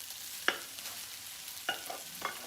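Cooked rice goes into a pan of sauce for Cajun chicken and rice, with a few soft, brief scraping and stirring sounds over a faint sizzle in a quiet kitchen.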